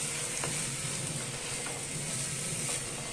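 Chopped banana flower is sautéed in a pan, making a steady, even sizzle and frying hiss throughout, with faint scraping and stirring clicks from the utensil and no voices.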